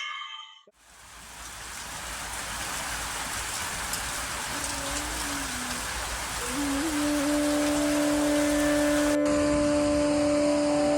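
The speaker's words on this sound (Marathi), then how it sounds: "अतिवृष्टी आहे जास्त पाऊस आहे" Heavy monsoon rain pours down steadily and loudly, flooding into a house, a dense continuous hiss, with a faint tonal hum rising in the background later on.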